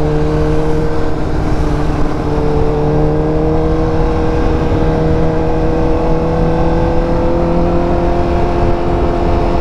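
A superbike's engine runs loud and close, holding a steady, sustained revving drone with slowly shifting engine tones and no talking throughout.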